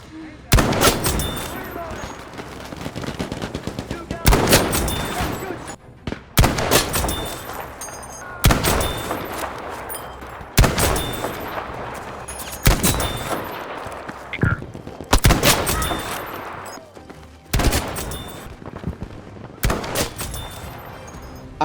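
Heavy gunfire in the shooter game Battlefield 2042, with loud sharp shots and booming blasts landing every couple of seconds, each trailing into rumbling echo, with some talk in the background.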